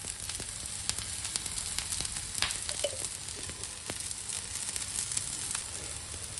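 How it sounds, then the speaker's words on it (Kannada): Palak paneer tikki fry in oil in a pan, giving a steady close sizzle with scattered small crackles and pops that continue evenly throughout, no talking over it. "ಇದಕ್ಕೆ ಸ್ವಲ್ಪ ಎಣ್ಣೆ ಹಾಕೋಣ ಮೇಲೆ."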